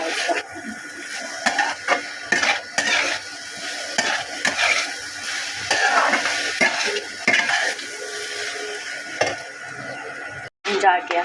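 Mushroom and potato are stir-fried in a pan, with repeated close scraping stirs over a constant sizzle and a brief dropout near the end.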